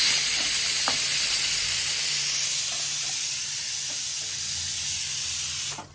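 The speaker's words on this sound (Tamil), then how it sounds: "கடுகு, வெந்தயம், காஞ்ச மிளகாய் பொரிஞ்சிட்டு இருக்கு" Mustard seeds, fenugreek, dried red chillies and onion sizzle in hot oil while tempering for home-style sambar, giving a steady, close, bright hiss with a few faint crackles and pops.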